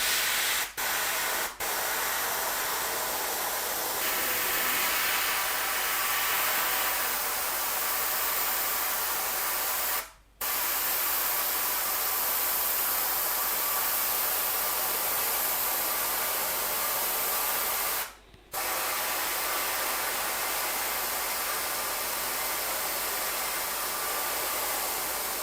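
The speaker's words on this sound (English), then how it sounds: "You have to spray thin layers of the color over all the areas with the primer." A long, steady hiss of spray paint from a can onto a bike frame, loud and close, running almost continuously with two brief pauses between passes.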